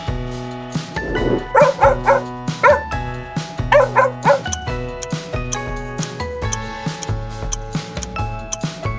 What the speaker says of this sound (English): Dog! That's right.